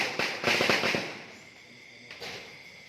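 Remote-controlled, electrically ignited fireworks go off in front of a crematorium, a quick cluster of sharp cracking bursts followed by a hissing fade and a final single pop.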